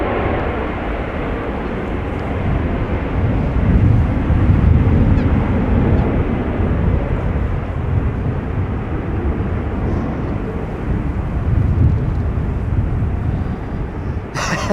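An airliner rumbles through its landing at Amsterdam Schiphol Airport on a breezy day after a storm, a loud broadband roar that swells and eases under heavy wind buffeting with no speech.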